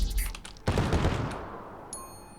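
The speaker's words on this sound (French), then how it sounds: "Il me tire dessus ou..." Gunfire in the video game CrossCode: a rapid burst of shots, then a heavier blast that decays slowly, followed by a short chiming tone, all loud and without talk.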